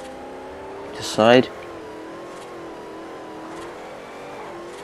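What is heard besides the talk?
car drifting in Forza Horizon video game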